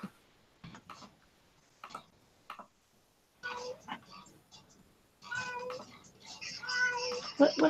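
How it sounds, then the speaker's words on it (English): A cat meows several times in a room with people, the cries rising in loudness toward the end and mixing with ticking and voices. "Is that a cat?"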